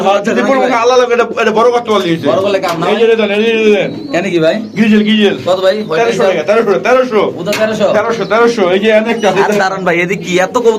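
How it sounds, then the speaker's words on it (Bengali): Pigeons coo at a pigeon farm in Khilgaon, Dhaka, a steady murmur of many birds heard under continuous nearby talking. "এই এত কবুতর"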